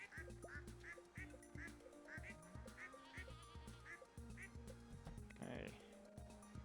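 Ducks quack repeatedly in the farming game Stardew Valley, a steady series of cartoonish calls over bouncy game music, with someone talking over it.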